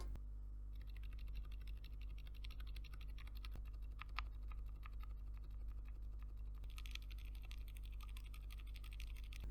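Typing on Gamakay Pegasus, Griffin and Phoenix keyboard switches, a quiet switch type, produces soft, steady, continuous keystroke clicking. It is faint and close, over a low steady hum, with no voices.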